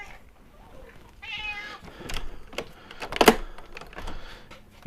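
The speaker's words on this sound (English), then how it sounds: "the cat's whining, wanting to go outside" A house cat meows close by in a home workshop, giving a drawn-out whining cry wanting to go outside, followed by a few shorter clicks and knocks against a quiet background.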